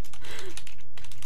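Typing on a computer keyboard in rapid, close, loud key clicks, forming a steady run of taps with no voices.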